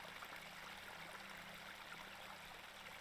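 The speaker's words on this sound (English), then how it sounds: "This is a lovely little beck." A small beck in the game Hob's Barrow gives off a steady, soft trickle and rush of running water, continuous and fairly faint, with no voices.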